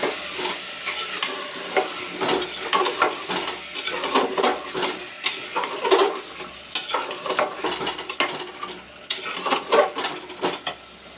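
Matar aloo with potatoes, peas and salt gets stirred in a pan, close scraping and clattering strokes of a utensil against the cookware repeating in uneven bursts over a light sizzle.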